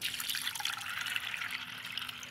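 Water runs into a bowl of washed lentils to soak them, a close, steady splashing trickle that holds for about two seconds.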